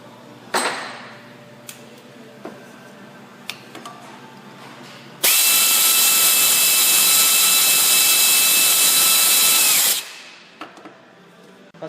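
A power tool runs in one steady, loud burst of about five seconds, driving a bracket nut down during head gasket replacement on a Ford Taurus 3.0L 12v engine, with quieter clinks and handling noises before and after.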